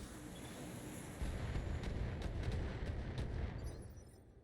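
Mech weapons firing in the Battletech video game, heard as a continuous rumbling barrage that swells after the first second, with a few sharp high transients. It stays fairly faint and distant, with no talk.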